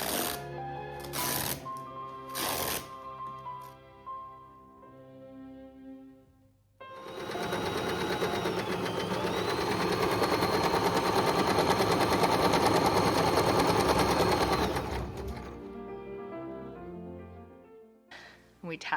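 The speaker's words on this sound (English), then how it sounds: "So Yaya sewed up the handles." A sewing machine stitches basket handles made of T-shirt yarn, running in one steady, fast whirring burst of about eight seconds, with music playing before and after.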